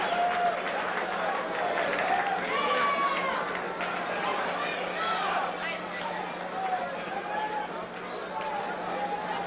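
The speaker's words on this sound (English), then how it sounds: "The crowd loves it." Boxing arena crowd after an eighth-round TKO, a dense wash of cheering and chatter that holds steady throughout, with whistles and shouts rising above the roar and voices talking amid it.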